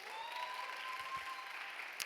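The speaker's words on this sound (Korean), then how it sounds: "우리 박수로 함께 좀 환영할까요?" A church congregation applauds a wedding announcement, a steady wash of clapping from many hands sustained throughout the brief moment.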